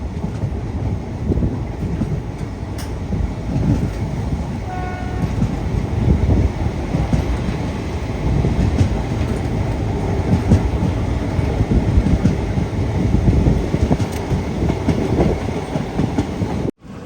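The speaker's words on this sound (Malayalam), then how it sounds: "ട്രെയിൻ ഇതാ" Sleeper-class special train rolling on rails toward Igatpuri, a steady rumbling roar with rhythmic clickety-clack and wind noise heard from inside, continuous and fairly loud throughout.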